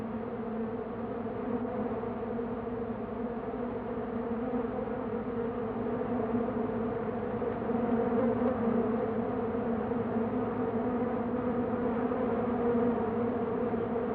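Bees buzzing steadily while collecting pollen from flowers, a continuous droning hum that swells slightly midway, close and unbroken with no talk.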